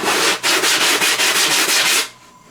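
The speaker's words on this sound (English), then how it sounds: "Get it almost there and clean it up with the 80 grit." Rapid back-and-forth scratchy rubbing of 80-grit sandpaper on a foam model wing, close up, in quick even strokes before stopping abruptly.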